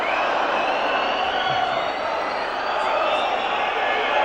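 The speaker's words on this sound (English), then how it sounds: "Fleck gets a cheer almost as big as the one when he scored." Football crowd at Norwich City against Manchester United in 1991 cheering loudly for Norwich player Fleck, a broad steady roar filling the stadium, with commentary voices underneath.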